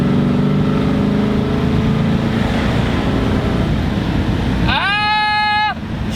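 A 1967 Shelby GT500, a restored barn find, roars with a loud, steady low engine drone while driving, then near the end a voice breaks in over the engine.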